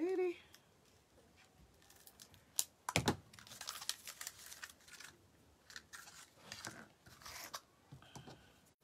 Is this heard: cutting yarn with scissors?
yes